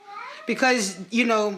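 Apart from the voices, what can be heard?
pet cat meowing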